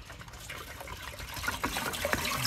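Water poured into a large basin used as a pot for cooking a big batch of khichuri, a continuous gushing, splashing stream that grows slightly louder toward the end, with no talk.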